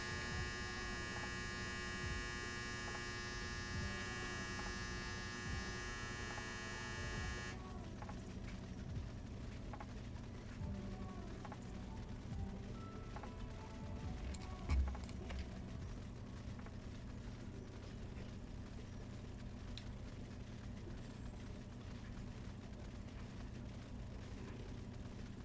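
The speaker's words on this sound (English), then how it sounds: "Oh, that's for our dryer." A home clothes dryer gives off a steady electric buzzing drone that holds for several seconds and then cuts off abruptly, leaving only a low room hum.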